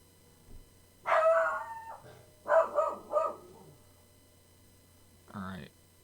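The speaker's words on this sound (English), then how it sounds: "he's just barking" A dog barks indoors in a few separate bursts: one longer bark, then a quick cluster of two or three, then a final short one after a pause, each standing out against quiet room hum.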